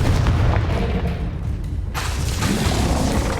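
A Confringo explosion spell fired in Hogwarts Legacy on Switch sets off a dense run of heavy, booming blasts with a whooshing rush. The blasts are loud and close, and they carry on without a break for the whole stretch.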